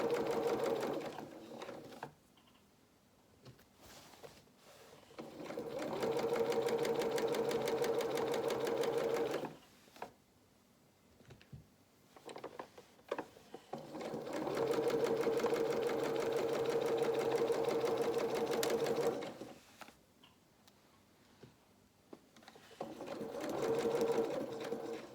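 A sewing machine sews the side seam of a pair of shorts, pivoting around a curve, in three long close runs of steady mechanical whirring separated by short pauses with small clicks.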